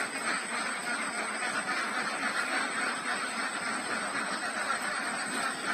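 A flock of domestic ducks nearing egg-laying makes a continuous, dense wash of quacking and calling that stays steady and moderately loud, with no single bird standing out.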